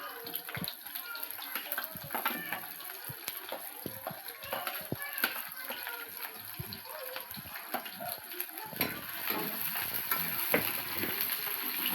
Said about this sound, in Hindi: डाल दिया हमने इसका जीरा और अब ये डाल दी हमने इसमें प्याज